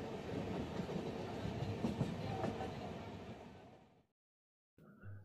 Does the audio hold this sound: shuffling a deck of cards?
no